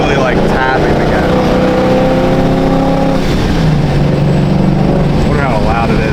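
A Procharged Ford Mustang S650 making about 900 wheel horsepower accelerates under light throttle, its engine note loud and close with rising harmonic tones, and brief speech-like sounds over it.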